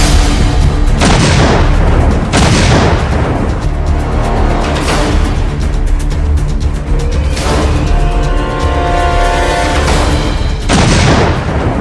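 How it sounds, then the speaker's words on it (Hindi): Pakistani artillery shelling across the LoC in the Jammu hills booms repeatedly, heavy loud blasts roughly every one to three seconds with rolling rumble between them, no talk. "LOC पर पाकिस्तान की ओर से 6 घंटे नॉनस्टॉप बरसा गोला बारूद।"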